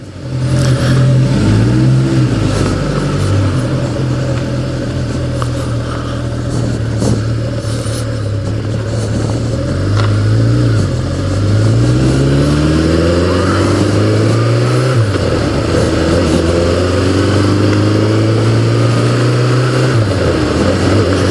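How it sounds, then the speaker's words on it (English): A 1988 Yamaha FJ600 sport motorcycle engine, heard while riding on the road, drones loud and close, rising repeatedly in pitch through the gears, with drops and climbs as it shifts. "Have a chance to see how she warms up and runs on the road."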